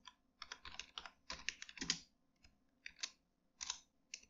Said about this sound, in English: After that I will type in here text